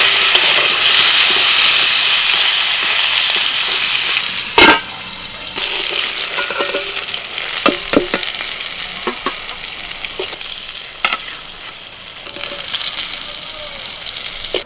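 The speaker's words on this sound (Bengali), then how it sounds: "কড়াইতে একটু সরষের তেল দিয়ে দিয়েছি, আর ওর মধ্যে দিচ্ছি একটু কালো জিরে, কাঁচা লঙ্কা" Nigella seeds and green chili frying in mustard oil in a wok, a bright steady sizzle and hiss with clattering stirs and a few sharp knocks, close and loud with no talk.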